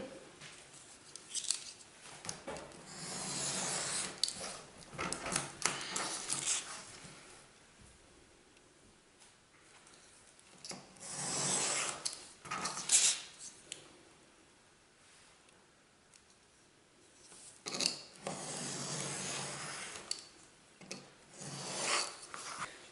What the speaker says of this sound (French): Je les coupe au cutter, mais on peut les couper bien sûr avec des ciseaux.